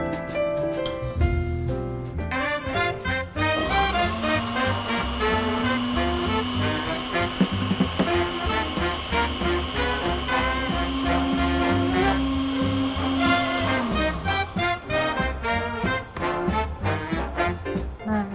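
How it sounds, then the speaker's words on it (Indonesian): An electric blender grinds garlic, shallots and ginger with a little water, making a loud steady whir with pulses and starts and stops, layered under background music throughout. "menghaluskan bawang putih, bawang merah, jahe dengan cara di blender. Saya akan tambahkan sedikit air untuk memblender."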